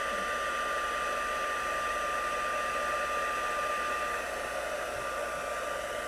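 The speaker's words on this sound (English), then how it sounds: "I'm going to take my heat gun and I'm going to put it on 2." A heat gun on setting 2 blows with a steady, loud whooshing roar and a faint whine, running continuously without a break.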